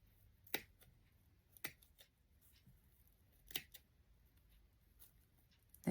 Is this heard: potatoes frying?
no